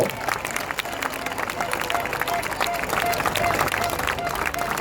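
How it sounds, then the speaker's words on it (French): Outdoor crowd applauding the podium winners of a French cross-country eliminator mountain bike championship, steady clapping mixed with crowd murmur and scattered voices, with a faint repeating beep in the background. "Encore plus fort pour les applaudissements."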